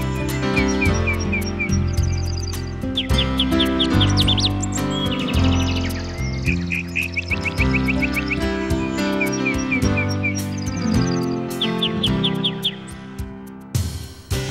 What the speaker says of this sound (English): Black bulbul and downy woodpeckers hover in the woods.